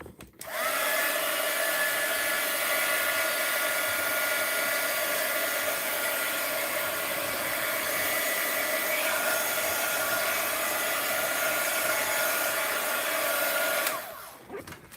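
A hair dryer blows steadily over wet paint on an art piece, a loud continuous whir that starts abruptly, holds for about thirteen seconds, then cuts off.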